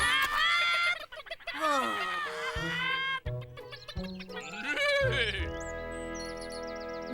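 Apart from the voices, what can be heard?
hens clucking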